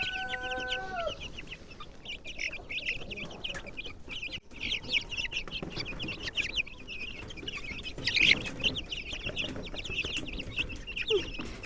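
Many chickens cluck and chatter continuously up close, with occasional sharper squawks rising above the busy flock noise.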